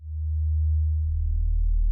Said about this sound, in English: So this is literally just a sine wave.